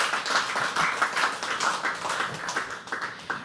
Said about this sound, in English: can we clap for Habitat?